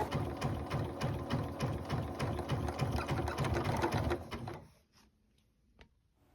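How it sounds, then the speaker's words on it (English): A sewing machine stitches tiny fabric pieces with a rapid, even mechanical chatter that runs for about four seconds, then stops and leaves only faint clicks. "Sometimes when a machine is sewing together really tiny pieces like this, it can get stuck"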